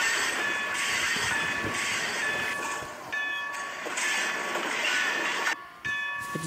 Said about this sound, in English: I just derailed the train, now we're stopped.